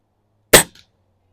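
A single sharp crack from a Cometa 220 break-barrel air rifle, close and loud, with a faint brief echo afterward and silence around it.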